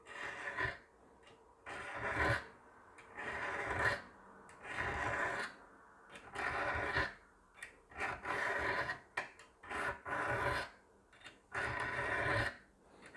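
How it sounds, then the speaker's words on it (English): A metal file draw-files the rusty edge of a blade from an antique pair of shears held in a vise, giving rhythmic rasping strokes, about a dozen, close and loud with short pauses between. "doing the same thing, draw filing that edge, keeping the same angle"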